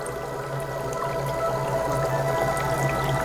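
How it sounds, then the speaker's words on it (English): Water bubbles up steadily through an HHO LED bubbler built from PVC parts, giving a continuous soft gurgling hiss at close range. "keeps the bubbles very uniform when they come up through the middle like this"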